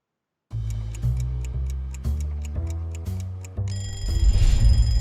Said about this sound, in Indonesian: Setiap pagi mungkin kita bangun karena dengar suara alarm di HP kita